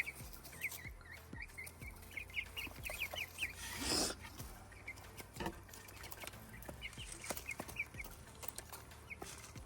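Young chickens peep and cluck softly in a small flock, a steady scatter of faint chirps and clucks at close range with light rustling and a brief burst of scraping noise, no talking.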